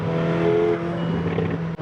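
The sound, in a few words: sports car exhaust crackle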